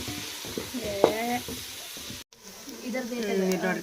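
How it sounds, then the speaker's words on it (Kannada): Onions frying in a pan at home during festival cooking, stirred now and then, with a steady sizzle under nearby voices and a brief gap partway through. "ಉಳ್ಳಾಗಡ್ಡಿ ಫ್ರೈ ಆಗಕತ್ತಾವ"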